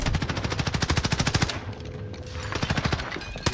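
Rapid bursts of C58 rifle fire in a first-person shooter video game, loud and close, a steady stream of shots with a brief pause before the firing resumes.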